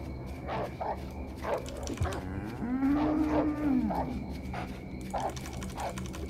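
Cows moo in a video game field, one long low moo at the center over a busy backdrop of repeated knocking and mechanical game sounds with dog-like barks mixed in.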